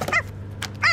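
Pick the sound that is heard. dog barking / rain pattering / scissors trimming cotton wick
dog barking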